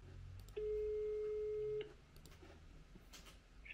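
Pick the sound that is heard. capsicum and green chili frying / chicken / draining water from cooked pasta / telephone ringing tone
telephone ringing tone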